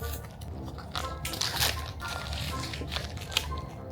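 Crunchy bites into a Chinese jianbing crepe filled with lettuce, shredded potato, egg and pork tenderloin, close crisp crunches and soft chewing over a few seconds, with faint talk.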